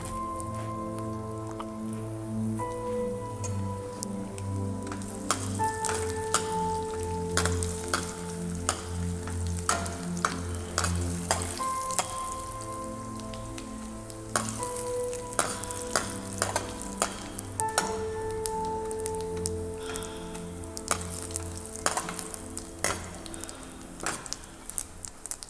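Jeera, mustard seeds and coriander seeds sizzling in hot oil while cooking sarson da saag: a steady crackling fry with frequent sharp pops of spluttering seeds, close and continuous under faint background music, with no speech.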